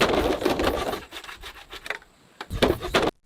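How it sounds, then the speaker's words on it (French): A hand saw cuts away excess palm stems on a palm-leaf roof, with a run of close, scratchy rasping strokes, a short lull, then a few more strokes before it stops. "Il restait beaucoup d'excédents de tiges qu'ils ont tous retirés avec une scie."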